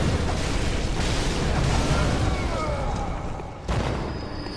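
Cannon enemy in the Bloodborne: The Old Hunters video game firing, a dense stretch of loud booming blasts and rumbling explosions with a sharp fresh impact near the end.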